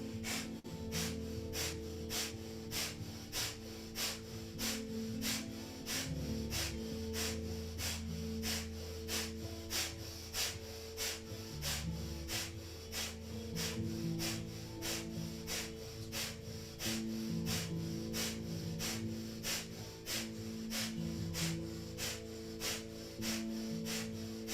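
Rapid rhythmic breath of fire from Kundalini yoga practice, a fast even train of sharp nasal exhalations repeating steadily for the whole stretch over a soft sustained music background.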